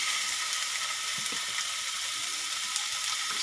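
Chicken added to a hot pan, a loud continuous sizzle with small crackles and a few soft clunks as the pieces settle.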